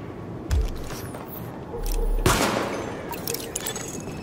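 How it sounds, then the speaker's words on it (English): Gunfire at highlighted targets during a weapon test in The Division, in a precinct siege: a few sharp reports and bursts spread across the moments, with a heavier sustained stretch of fire in the middle and no talking. "Open fire at the highlighted targets."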